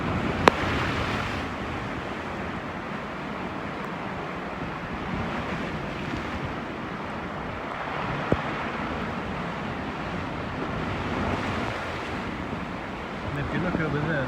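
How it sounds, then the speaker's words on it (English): Stormy sea waves surge and crash steadily during Storm Ciara on the UK coast, a dense roaring wash mixed with gusting wind noise across the whole stretch, with a couple of sharp knocks. "The power of the sea is so impressive."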